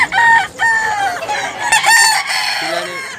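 A rooster at a gamefowl sale in Tabunok, Cebu crows loudly and close, with repeated strained calls overlapping other birds in a busy outdoor setting.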